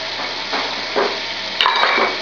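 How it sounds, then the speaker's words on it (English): Stuffing ingredients, bacon and onions, fry in butter and oil in a pan with a steady close sizzle, broken by swells of stirring and a couple of sharp utensil knocks against the pan. "And what we're going to do is just fry that off to get the bacon just a little bit crispy"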